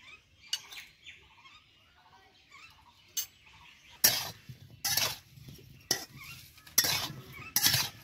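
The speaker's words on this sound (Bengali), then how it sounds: "লবণটা ভালোভাবে মিশিয়ে দিব টমেটোটা।" Chopped tomatoes with salt stirred in a dry wok: quiet scrapes at first, then a run of loud, sharp spatula clanks and scrapes against the metal pan, alone with no talking.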